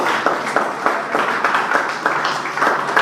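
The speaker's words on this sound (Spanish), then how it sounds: "Vamos a dar un aplauso al Señor." A church congregation claps together, a continuous wash of applause at moderate distance, steady and even for a few seconds with no clear voices on top.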